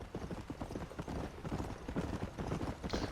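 A horse's hooves clip-clop at a steady trotting rhythm in the Xbox One game Red Dead Redemption, close and continuous over soft background sound.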